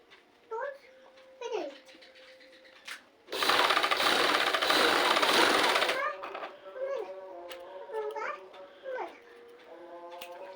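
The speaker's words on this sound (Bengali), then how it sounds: "এই যে এইভাবে আমরা কাপড়টি সেলাই করে দেবো সুন্দর করে।" A sewing machine stitches piping onto cloth for a baby's dress in one loud, rapid burst of about three seconds, framed by someone talking before and after.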